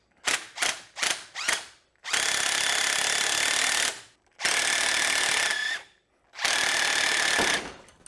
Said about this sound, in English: See if we can pull down on it hard enough to actually create enough friction for the impact to work.